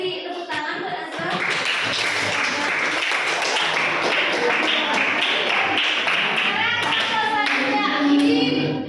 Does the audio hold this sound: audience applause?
yes